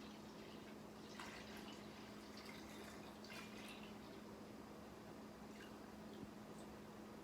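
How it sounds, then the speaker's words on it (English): Juice is poured back into a container, giving faint, quiet trickling and dripping over a steady low hum of room noise, with no talking. "So now I'm going to take my juice, which I'll be pouring back in here."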